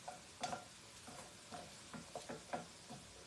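Thinly sliced onions frying with aromatics in a pan for Indian Chinese fried rice, a faint sizzle broken by irregular stirring scrapes and taps, with no voices.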